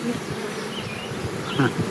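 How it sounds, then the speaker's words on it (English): Honey bees fanning their wings at the entrance of a nucleus hive, a steady close buzzing drone throughout with a few brief louder passes of individual bees near the end. "they fan their wings to send the scent out here"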